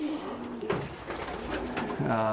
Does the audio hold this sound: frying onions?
no